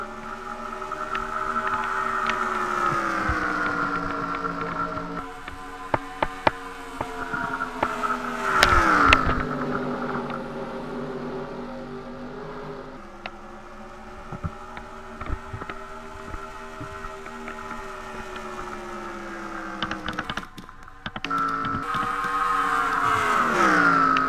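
Stock cars from a NASCAR racing video game drone steadily, engine tones rising and falling as they shift and chase, with occasional brief clicks over the steady hum.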